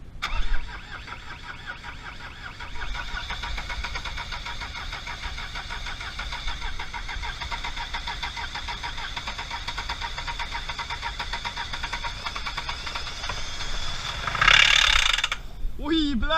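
A Mercedes car engine cranks and catches, then runs with a steady mid-pitched drone before a sharp burst of revving near the end.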